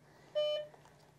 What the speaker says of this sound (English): hold down the on-off button until the screen turns on and it makes a beeping sound.